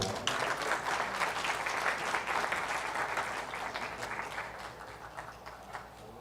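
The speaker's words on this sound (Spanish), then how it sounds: "Un fuerte aplauso para el arquitecto Jorge Mata Ortega." An audience at a cost-engineering panel event applauds, giving a dense, continuous roar of clapping that is strongest at the start and slowly fades over about six seconds.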